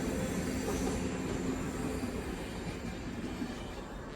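A train moves through a railway station next to a hotel in Sutomore, Montenegro, a faint, distant, steady rumble of rolling wagons with no speech.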